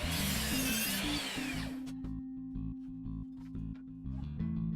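A miter saw set up with a stop block cuts mitered wood pieces for vintage-style storage boxes: a loud, dense whine for about two seconds, then the motor's steady hum winds down under scattered light clicks and taps.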